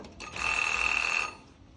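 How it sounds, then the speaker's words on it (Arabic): A gas cooker's oven timer rings with a single sustained bright electronic tone lasting about a second, close and clear, then fades into a quiet room with no talking. "تايمر"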